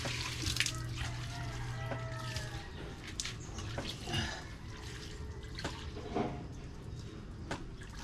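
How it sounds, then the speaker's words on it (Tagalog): Water poured onto a freshly repotted bonsai makes a soft, quiet trickle and drip, with faint scattered splashes and light handling sounds in the background. "lagyan natin ng tubig"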